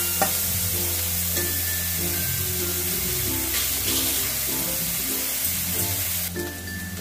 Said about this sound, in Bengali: পেঁয়াজটা যতক্ষণ একটুখানি লাল কালারটা আসছে ততক্ষণ আমি একটু ভাজবো।